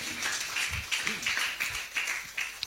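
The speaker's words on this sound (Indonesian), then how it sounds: "Tepuk tangan bagi Bapak Yahweh" A church congregation gives scattered, fairly faint claps during a worship service, with uneven bursts of clapping and a low murmur of voices underneath.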